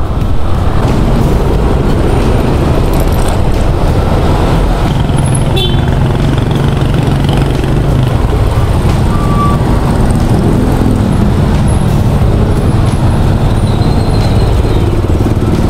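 Dense, loud road traffic roars continuously close by, a steady wash of engines and tyre noise from trucks, cars and buses with no break or quiet moment.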